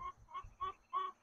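A chicken gives several soft, short clucks in a loose rhythm, quiet and close, with faint low rumble between calls.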